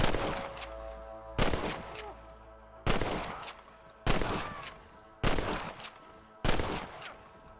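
Gunfire in Red Dead Redemption, a series of loud sharp shots or bursts spaced roughly a second apart, each with a decaying tail, over a quiet background.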